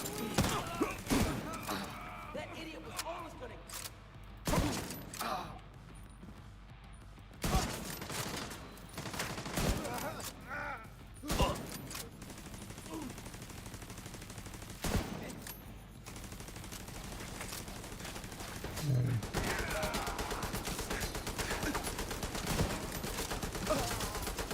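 Video game gunfire comes as repeated sharp shots and bursts spread across the whole stretch, some loud and near and others fainter, over a steady background of game ambience.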